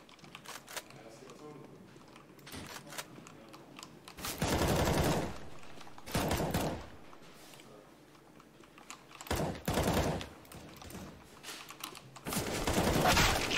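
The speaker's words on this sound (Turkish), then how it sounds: "Vurdu beni rastgele tarayarak ya" Spray gunfire in a competitive shooter video game comes in several loud, dense bursts of rapid shots separated by quieter stretches of keyboard clatter and a voice talking.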